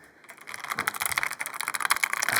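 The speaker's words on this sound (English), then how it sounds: "Noisy mechanical keyboard." Rapid, uneven clicking and clacking of a mechanical keyboard being typed on, close and fairly loud, with no voices.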